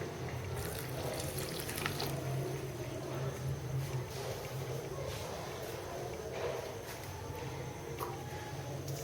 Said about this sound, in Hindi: पानी डालेंगे 1/4 कप।